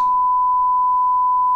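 A steady, pure 1 kilohertz tone from a hearing test that holds at an even, fairly loud level from start to finish, with no voices.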